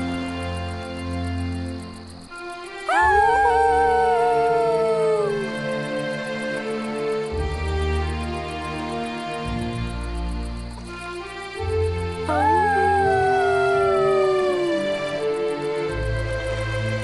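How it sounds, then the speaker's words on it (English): A storybook effect of a young dinosaur and a dog howling together at the stars: two long, loud, gliding howls, the second starting around twelve seconds in, set over a steady musical bed with no talk. "He and Spot looked up at the stars and howled together."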